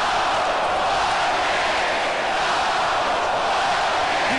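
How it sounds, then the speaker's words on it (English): Steady, loud roar of a large hockey arena crowd cheering at a junior championship Game 7 between Portland and Edmonton, a dense wash of voices filling the space without pause. "Huge crowd here, making lots of noise, really enjoying the night"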